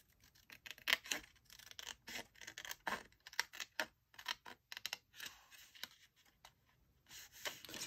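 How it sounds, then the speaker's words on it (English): Small scissors snip through paper ephemera in a run of short, crisp close-up cuts with irregular pauses, fairly quiet and without talk. "I'm just cutting this out"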